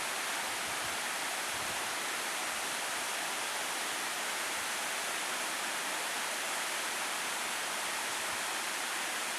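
Apple Orchard Falls, an Appalachian waterfall, roars as a dense, unbroken wash of rushing water heard up close, loud and steady throughout with no voices.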